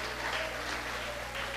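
Congregation applauding in church, a dense, steady wash of clapping with no pauses.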